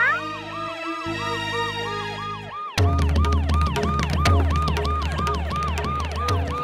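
An ambulance siren wails in a steady repeating up-and-down cycle, loud and close, shifting abruptly partway through as a second, busier siren pattern with a low engine rumble takes over.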